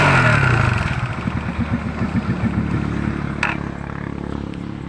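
A motorcycle engine, just repaired after an electrical fault, fires up and runs close by with a loud, rapid chugging idle that slowly settles and fades a little.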